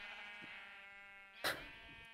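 A sheep bleats in a Minecraft modpack game as a steady, buzzy, nasal tone. A brief brighter burst cuts in partway through.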